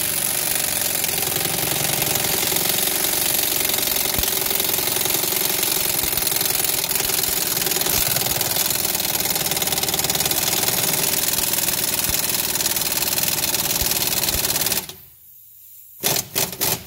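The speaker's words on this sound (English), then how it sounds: "all we gotta do is do the bit with the impact wrench and adjustable wrench" An impact wrench runs in a steady, loud, continuous rattling whir while pressing out a wheel bearing on a 2001 Subaru Outback hub, then cuts out briefly before a few short bursts.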